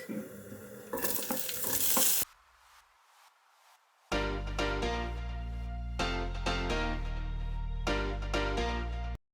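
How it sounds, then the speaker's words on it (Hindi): Sliced onions go into hot oil in a home kitchen and fry. A loud, bright sizzle bursts up at first, then cuts out, and a strong, steady frying hiss follows with bursts of stirring. "ऑयल गर्म हो जाए, इसके अंदर हम डालेंगे स्लाइस्ड अनियंस"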